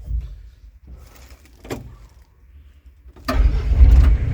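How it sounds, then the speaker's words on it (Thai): After some quiet mechanical clicks, the heavy diesel engine of a Caterpillar 306D excavator cranks and catches, settling into a loud, low, rumbling idle nearby. "ฟังเสียงเครื่องยนต์ตอนสตาร์ทกันนะครับ"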